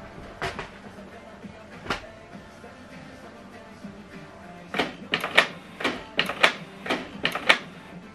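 A Canon Pixma TS3550i inkjet printer works in bursts of mechanical clicks and whirs, a few sparse clacks at first, then a rapid cluster of carriage movements.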